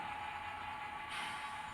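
Model train running on a layout of a yard and industries: a faint, steady mechanical whir with a thin high squeal tone, continuous and even.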